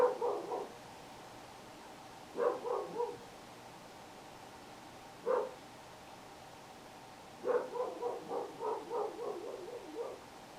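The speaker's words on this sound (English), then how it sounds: "if your dog was barking outside and made that series of barks" A dog barks in short bursts separated by pauses, ending in a longer run of repeated barks; moderately distant, with no talking.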